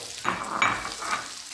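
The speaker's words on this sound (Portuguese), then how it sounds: "Agora eu vou vir com o alho e a cebola. Vou dar uma refogada." Garlic, onion and green pepper sauté in olive oil, giving a soft, close sizzle with a few stirring scrapes. The sound is faint and steady, with no one talking.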